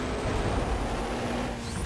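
A car in Need For Speed World pushing hard under acceleration, a steady loud engine roar with a sustained whining tone, close and continuous for about two seconds with no voices.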